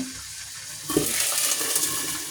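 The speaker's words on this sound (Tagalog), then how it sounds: "Ayan po, ating pong piniprito yung ating tulingan." Bullet tuna (tulingan) hitting hot oil in a pan: after a quiet second a sudden loud sizzle bursts up and settles into a steady, bright crackling hiss, close by with no talking.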